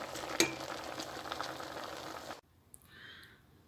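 Green beans with tomatoes cooking in a pot, giving a soft bubbling simmer and a light utensil clink while being stirred, before the sound abruptly drops to near quiet.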